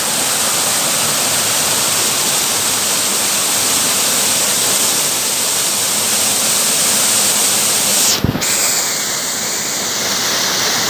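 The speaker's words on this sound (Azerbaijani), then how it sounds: "Dağ şəlaləsi" A mountain waterfall in the Ismayilli forest near Kəndok village roars as a dense, steady rush of falling water, broken only by one brief sharp click.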